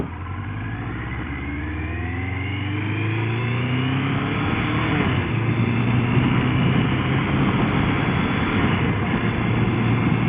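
A car engine revs up steadily and holds at high rpm, loud and close with a rising mechanical roar that grows over several seconds and stays strong to the end.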